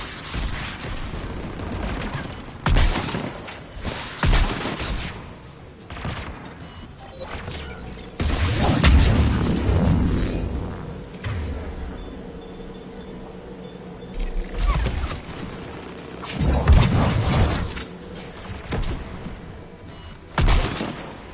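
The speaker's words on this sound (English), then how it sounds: "Aircraft guns are up ahead." Heavy anti-aircraft guns firing in the Mass Effect video game, a long stretch of booming blasts and crashes with rumbling mechanical noise between them, loud and close, with a few quieter gaps.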